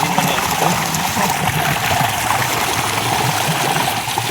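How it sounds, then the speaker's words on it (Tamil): Fresh fish are washed under steady running water outdoors in a village garden, a continuous close splashing trickle with no talk. "நல்லா அப்படியே ஓடுற தண்ணியில் ஆனால் கழுவுனா அது ஒரு ஜாலி தான்"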